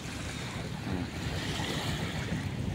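High-tide seawater floods in at Dolomite Beach along the Manila Baywalk, a dense continuous wash of surf mixed with wind rumble, with no one talking.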